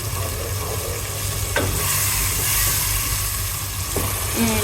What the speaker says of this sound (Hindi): अब मैं इनकी अच्छी तरह से भुनाई करूँगी और फिर जब ये अपना ऑयल सेपरेट कर दे